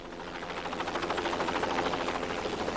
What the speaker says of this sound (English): This private jet ranger helicopter, piloted by a Vietnam veteran, ferries the ample frame of Lord Hesketh